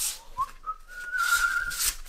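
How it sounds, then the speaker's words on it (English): A person whistles a short rising tune, a clear thin tone sliding upward and holding, close and fairly soft, with light handling noises around it and no talk. "I'm all whistling."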